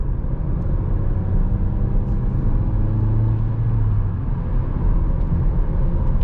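Inside a 2021 Seat Leon FR with a 1.5 eTSI 150 hp DSG, driving produces a steady low road and engine rumble with constant tyre noise and no other sounds.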